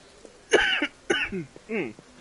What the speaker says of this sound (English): I hate it when that cough hits hard like that.